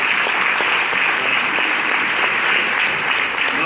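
A church congregation claps hands together during a worship service, a dense, steady wash of applause that stays loud and even throughout without any voices standing out.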